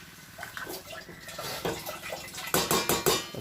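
Squid tossed through a coconut masala in a pan, with soft wet scraping and clacks of a spoon that grow louder toward the end.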